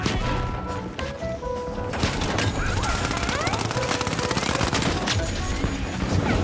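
Dual Desert Eagle pistols in The Finals unload in rapid, dense bursts with heavy in-game gunfire and crashes all around, loud and nearly continuous across the whole stretch.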